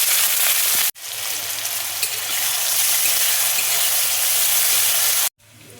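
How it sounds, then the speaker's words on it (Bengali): Chopped onion sizzles in hot mustard oil in a wok, a loud, close, steady hiss and crackle that runs almost unbroken, with two brief cuts to silence. "কড়াই দেখো তেল দিয়েছি, তেল দেখো গরম হয়ে গেছে। এবার আমি পেঁয়াজ কুচি দিয়ে দিচ্ছি।"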